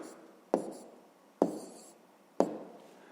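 Pen strokes on paper while writing numbers for a fifth-grade column subtraction exercise, three sharp scratchy strokes spaced about a second apart, close and clear with no talk.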